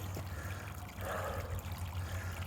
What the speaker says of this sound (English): water running down the trail from the snow melting